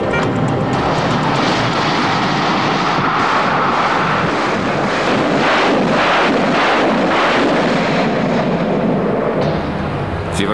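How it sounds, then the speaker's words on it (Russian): A long, dense roar of a Grad multiple rocket launcher firing deep-water projectiles in rapid succession, a continuous loud rushing blast with crackling bursts throughout. "Стрельбу специальными глубоководными снарядами выполняет реактивная установка «Град»."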